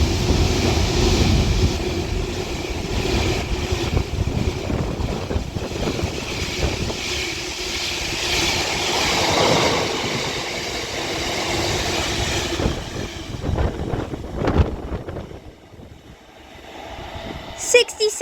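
A heavy Class 66 freight train rumbles past close by at Winsford on the West Coast Main Line, a long steady roar with rattling wagons and wind buffeting, fading near the end.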